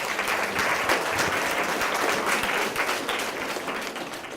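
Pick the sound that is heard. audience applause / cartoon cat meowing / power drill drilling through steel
audience applause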